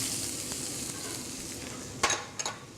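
Onions sizzling in hot olive oil in a non-stick pan, a soft, steady frying hiss close by, broken near the end by a couple of sharp stirring clatters.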